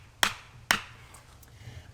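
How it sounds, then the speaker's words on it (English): Hatchet head used as a hammer to drive a wooden peg into place outdoors, two sharp, loud strikes about half a second apart, followed by quiet ambience. "use it for those hammering tasks, and drive the peg into place"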